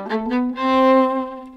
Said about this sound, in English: we can play off the string